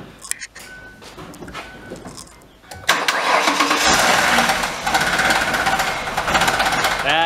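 A car engine whose timing belt has jumped a tooth, letting the valves strike the pistons, cranks and then runs roughly, giving a harsh, loud, rapid clattering hammering close up.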